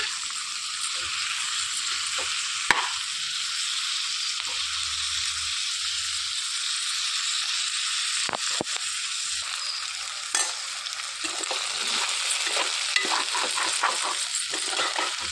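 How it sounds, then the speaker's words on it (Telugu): Ginger-garlic paste being stirred into brinjal curry frying in a pan, a steady hissing sizzle with scraping strokes and occasional clinks of the spoon against the pan, close and continuous. "ఒక చిన్న టేబుల్ స్పూను అల్లం వెల్లుల్లి పేస్ట్ వేసుకోవాలి. కలిపేసుకోవాలండి."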